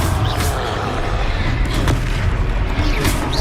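Confringo fire spell explosions from the video game Hogwarts Legacy, several sharp booming blasts at irregular intervals over a dense, roaring battle background.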